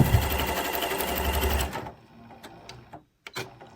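A Janome Continental M6 sewing machine stitches fabric with a dense, steady run of needle strokes for almost two seconds, then stops, leaving a few faint clicks and handling taps.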